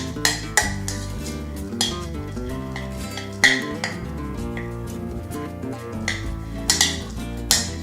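Ingredients with Spanish paprika being mixed and tossed in a bowl make a series of close clinks and knocks of utensil on the bowl, irregular and repeated, over a soft music bed.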